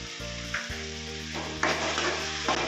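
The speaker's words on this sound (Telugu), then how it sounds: "ఇప్పుడు ఎండి చేప ముక్కలు వేస్తున్నాం" Dried fish pieces frying in a pan with salt and chili powder, a continuous close sizzle with a few stirring scrapes and a low tonal hum underneath, no talking.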